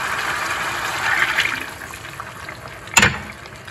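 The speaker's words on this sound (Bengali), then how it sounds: "এখন আমি জল দিয়ে দেবো, ঝোলের জন্য জলটা দিয়ে দেবো।" Water poured into a pan of green peas and paneer curry, a close, steady rushing pour that swells briefly, followed by a short sharp clatter.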